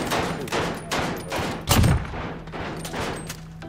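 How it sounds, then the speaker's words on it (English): Uzi fire in Call of Duty: Modern Warfare during a 3v3 team deathmatch comes as repeated bursts of rapid shots, close and fairly loud, with a heavier blast partway through. "that Uzi's recoil is so annoying."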